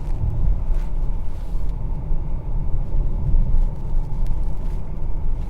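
A 2022 Ford Explorer ST in Eco mode on 21-inch low-profile rims rolls over bumpy road, a steady low cabin rumble with soft thumps, close and even throughout.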